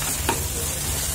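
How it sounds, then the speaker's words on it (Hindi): Food for crispy honey chilli potato cooking in a pan over a medium flame, a steady soft sizzle throughout with one brief scrape of stirring, no voices. "अब मीडियम फ्लेम पे इसको हम पका लेते हैं"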